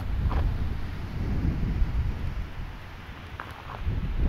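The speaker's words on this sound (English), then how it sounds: "It's pretty, really windy up here." Strong wind buffets the microphone on a hilltop in a steady low roar, gusting louder near the end, with no voices.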